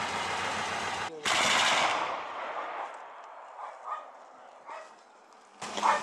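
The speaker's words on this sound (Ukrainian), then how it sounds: "йде перестрілка з стрілецької зброї, а також ступокаліберних кулеметів" Bursts of small arms and heavy-caliber machine gun fire crackle in the distance during a firefight near Shyroke, Ukraine, with quieter pauses and faint voices between.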